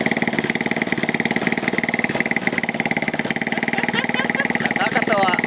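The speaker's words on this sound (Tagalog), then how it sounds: "Water pump gamit ang motor." A broken water pump converted to run on a motorcycle engine chugs steadily at idle, a close, continuous mechanical putter with a regular pulsing beat, while people talk over it.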